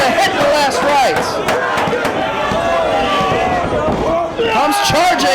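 Wrestling arena crowd at a tribute show, loud and continuous, with shouting and cheering swelling throughout, while a commentator talks over the noise.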